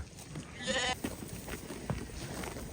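A sheep gives a single short bleat that rings out briefly, set against quiet outdoor background noise.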